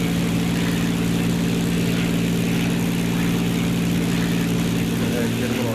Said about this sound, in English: Hopefully you can hear me over the sound of the engine and stuff.